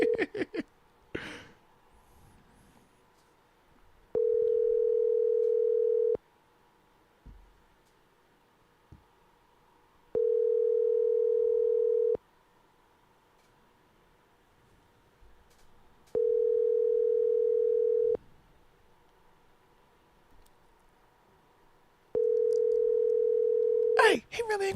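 Outgoing phone call ringing unanswered, four evenly spaced long ring tones separated by pauses, clear and steady, with brief faint voices at the start and end.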